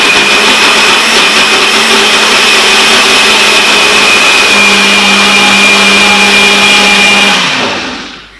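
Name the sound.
blender blending green pesto sauce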